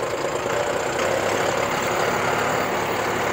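A John Deere 5405 CRDI tractor engine runs steadily nearby, a loud continuous diesel drone with a faint knocking texture and no talk.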